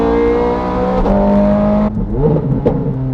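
A Ferrari 430 Scuderia's engine roars loud and close, a steady high-revving note that shifts pitch as it climbs, then drops off and surges again with raspy, raw bursts.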